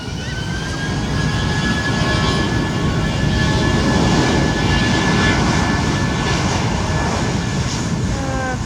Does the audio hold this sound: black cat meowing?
no